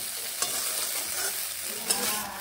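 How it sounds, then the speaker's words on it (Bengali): Drumstick pieces fry in a pan while being stirred, a continuous close sizzle with a couple of brief scraping clicks from the utensil, steady and moderately loud without any talk. "একটু নেড়ে এইভাবে ভেজে নিচ্ছি।"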